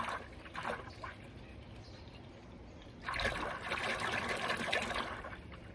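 Green-yellow liquid concentrate is poured in two steady streams, close up, with a short pause between them and no voices.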